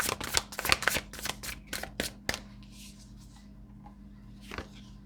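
Tarot cards are shuffled by hand during a reading. A fast run of crisp riffling slaps opens the clip, then the shuffling fades to a few soft, scattered card sounds.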